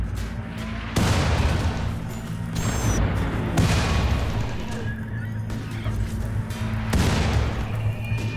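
Mortar shells from a mechanoid raid in the colony game RimWorld land in loud, heavy booms, three big blasts spaced a few seconds apart, each followed by a rumbling tail over a constant low background hum.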